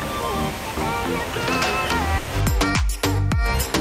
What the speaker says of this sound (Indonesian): air terjun ini ternyata tingginya kurang lebih 35 meter